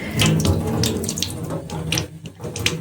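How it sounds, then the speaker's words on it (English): Tap water runs from a faucet in a steady, loud splashing stream as it rinses a Gram stain slide, with no talking. "I'm just going to use tap water here, that's fine"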